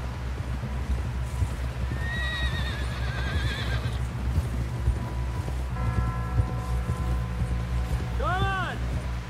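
A horse in the Red Dead Redemption 2 video game whinnies twice over a steady clip-clop of hooves, with game voices talking over the riding sounds.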